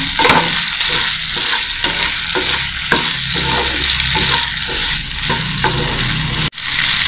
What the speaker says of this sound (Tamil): ஒரு ரெண்டு நிமிஷம் நல்லா வதக்கலாம்